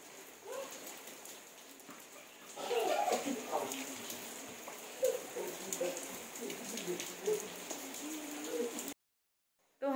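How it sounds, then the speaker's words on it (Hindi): Light drizzle falls outdoors on an afternoon during Dhanteras, a soft steady patter with scattered drops and faint bird calls in the background, quiet and continuous before cutting out near the end. "हमारे यहाँ ना हो रही है बारिश।"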